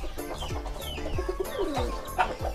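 Ornamental pigeons coo in a collector's loft, several birds giving repeated low rolling coos that overlap near and slightly farther off, with a sharper call rising near the end.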